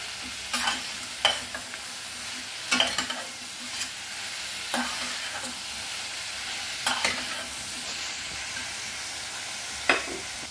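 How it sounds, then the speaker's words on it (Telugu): Onions sizzle in a pan for tomato soup while a spoon stirs them, the steady frying hiss broken by sharp scraping stirs every second or two, close and clear with no talk. "ఉల్లిపాయ వేగింది."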